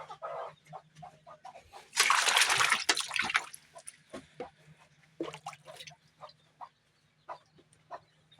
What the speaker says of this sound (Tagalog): Bigyan ko na rin sila ng malinis na tubig.